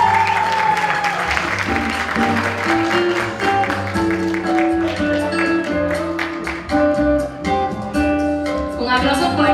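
Audience applause at the Miss Cuba US 2019 final gala pageant, a continuous wash of clapping mixed under loud stage music with steady beats and sustained tones throughout.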